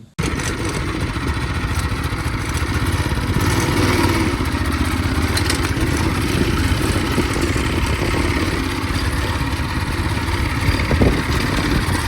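Small engine of a Tote Gote mini bike running steadily while being ridden, a continuous loud buzzing drone with slight shifts in pitch, close to the rider, with no talking.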